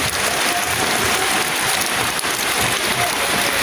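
Steady, dense patter of rain drumming on a tin roof, continuous and fairly loud with no pauses.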